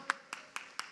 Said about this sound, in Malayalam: നല്ല ശബ്ദത്തിൽ നല്ലൊരു കയ്യടി കൊടുത്ത് കർത്താവിനെ മഹത്വപ്പെടുത്ത്